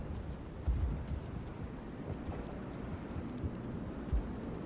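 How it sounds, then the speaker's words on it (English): Muffled battle gunfire and deep thumping blasts rumble through a dense, noisy wartime soundscape from the video game Mass Effect, with a couple of heavier booms standing out. "How is a woman supposed to think with guns going off all around?"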